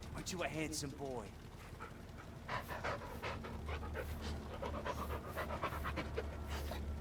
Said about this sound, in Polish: W ogóle jeszcze przed wyruszeniem pogłaskajmy naszego psa.